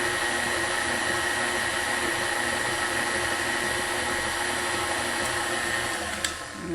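Electric mixer beating pumpkin muffin batter with chocolate chips and instant vanilla pudding mix, a loud steady close whir running continuously before winding down with a brief knock near the end.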